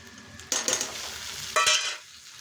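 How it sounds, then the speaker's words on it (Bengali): Tomatoes added to onions frying in a pan, two bursts of loud crackling sizzle about a second apart, each easing into a softer hiss, close-up with no talking. "এবার টমেটোগুলো দিয়ে দেব।"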